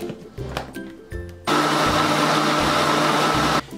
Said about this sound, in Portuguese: Vou tampar o meu liquidificador, vou deixar bater por 2 minutos.